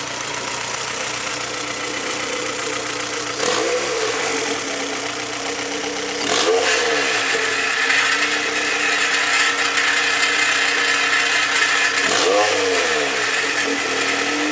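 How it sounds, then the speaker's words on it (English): A Honda B18C DOHC VTEC engine swapped into a Civic idles steadily, then revs up in three sharp bursts whose pitch sweeps climb and fall back, loud and close with no talking. "Just letting it warm up before I rev it a little bit."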